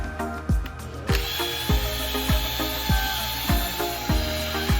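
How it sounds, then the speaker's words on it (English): A power drill whirs steadily through an old fire hose while a sharp, percussive knock repeats about every half second, each hit dropping in pitch, loud and close. "we actually had to use two different drill pieces"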